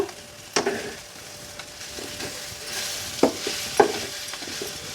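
Amaranth-leaf veg liver fry with coriander stirred in a pan, giving a steady sizzle broken by a few sharp scrapes and clinks of the spoon against the metal.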